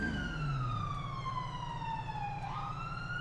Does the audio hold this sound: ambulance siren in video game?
yes